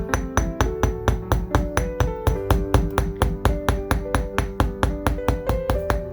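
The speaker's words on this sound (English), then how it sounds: "letting the hammer do the job of texturing the metal and work hardening it" Steady, evenly spaced hammer blows ring on metal wire being textured and work-hardened, about four strikes per second, close and crisp with a bright metallic ring, no voices.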